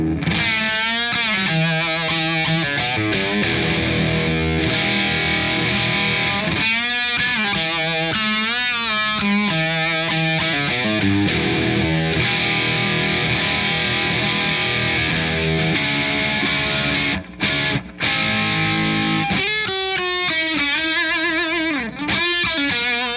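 A Telecaster electric guitar played through a Marshall JVM 410H amp with presence turned fully up, resonance around 3 and a little reverb gives loud, driven chords and riffs with a steady, saturated sustain.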